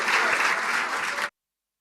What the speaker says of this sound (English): let's do a dual round of applause for Drew and for our next panelists